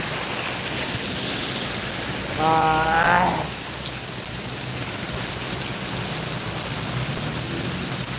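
Intense rainfall in Singapore drums in a constant broadband hiss, near and loud, with a short tonal sound rising briefly above the rain partway through.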